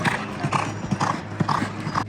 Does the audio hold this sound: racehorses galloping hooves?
yes